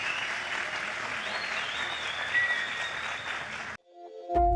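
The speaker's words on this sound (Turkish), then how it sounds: "Alkışlarınızla başkanımıza teşekkür edelim." Audience applause thanking a mayor at a public event, a continuous broad clapping wash that cuts off abruptly near the end, followed by a brief loud knock.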